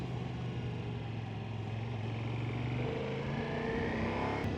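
A 2024 Ducati Multistrada Rally motorcycle engine drones close by with the throttle set snatchy, a steady rumbling hum with rising tones near the end, no voices.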